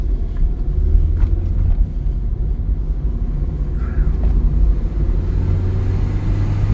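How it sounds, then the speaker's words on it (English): Cars drive past on a road through bare, burned mountain hills, a steady low engine rumble and tyre roar close by that swells slightly as a vehicle passes, with no talking. "The cars are coming."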